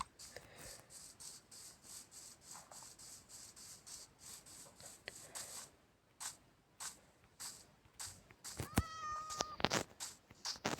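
A cat meows in short repeated calls, quiet and close, with soft rubbing sounds between them and a louder burst of sounds near the end.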